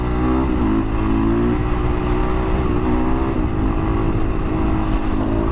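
Husqvarna 501 supermoto motorcycle accelerating in second gear on a quiet road, its single-cylinder engine a loud, steady, close drone with rising pitch throughout, no talking.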